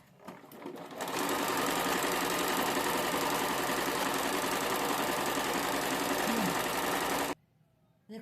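A sewing machine runs steadily for about six seconds while stitching an umbrella palazzo garment, a loud continuous whirring hum that stops abruptly, with faint handling sounds before and after.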